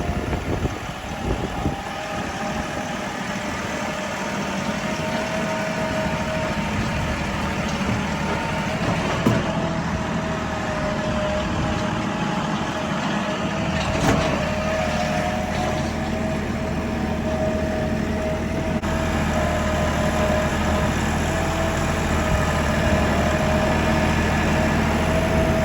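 A tractor engine idling on a farm with alpacas, a loud, steady low diesel rumble with a constant tonal hum, running unbroken throughout with a few faint clunks.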